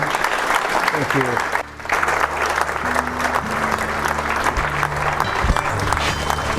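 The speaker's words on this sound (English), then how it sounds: "Let's give Dr. Cavanaugh a round of applause." An audience applauds Dr. William Cavanaugh after his lecture on consumerism and idolatry, the clapping loud and continuous for several seconds, with a few voices murmuring beneath it.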